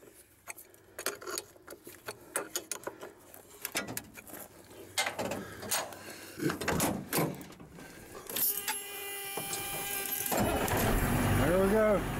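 A rollback truck's engine, just fitted with a repaired starter, cranks briefly and catches, then settles into a steady, loud idle that fills the last few seconds after scattered clanks and handling noises.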